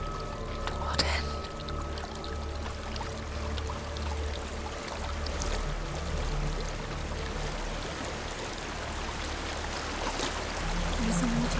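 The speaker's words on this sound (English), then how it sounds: "There's a waterfall." A waterfall in Hellblade: Senua's Sacrifice roars as a broad, continuous rush of falling water, steady and fairly loud throughout with a low rumble beneath, while voices talk intermittently over it.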